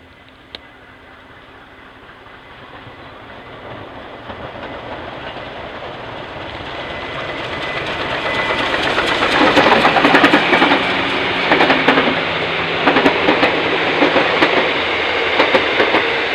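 Steam locomotive K160 approaches and passes Altona junction, its rumble and clatter building from faint to loud and staying heavy, with a steady mechanical drone underneath.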